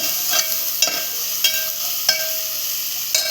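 Spoon stirring turmeric and asafoetida into sizzling oil in a pan for spicy Marathi prawn rice masala, a steady fry hiss with a few periodic scraping knocks.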